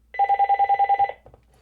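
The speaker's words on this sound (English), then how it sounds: "No one answers the house phone." A house phone rings up close with a rapid electronic trill, a single burst of evenly pulsed beeps lasting about a second before cutting off.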